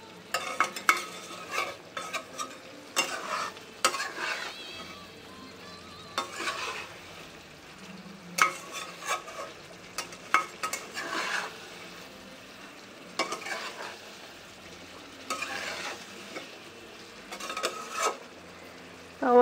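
Cauliflower is stir-fried in a pan and releasing some water, with repeated bursts of scraping and stirring over a low, soft sizzle.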